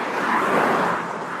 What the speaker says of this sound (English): Car, minivan.